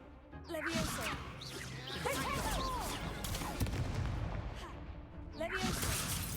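Spells cast in quick succession in Hogwarts Legacy, with bursts of whooshing, whip-like magical effects and impacts over a steady game soundscape, while a person talks and calls out spell names throughout.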